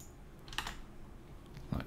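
A few faint, isolated clicks of typing on a computer keyboard, spaced out over a couple of seconds against a quiet background.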